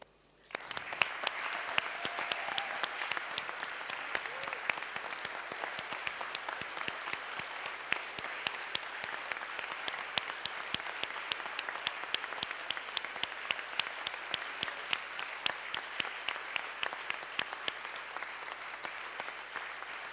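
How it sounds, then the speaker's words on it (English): An awards ceremony crowd applauds standing competition team members, steady dense clapping that starts abruptly and holds for about twenty seconds in a large room, with faint voices underneath. "remain standing as we all applaud you"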